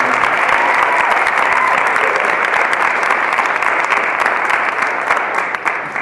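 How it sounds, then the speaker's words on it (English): Loud, dense applause from an audience at a Colorado dance expo fills the whole stretch without a break, tapering slightly toward the end. "Can you give Billy a warm applause?"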